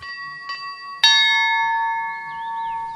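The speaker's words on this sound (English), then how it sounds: "5 times a day a bell rings" A single large bell rings for prayer in a religious community in Siberia, a clear struck tone sounding twice faintly then once loudly and ringing out with a long slowly decaying hum.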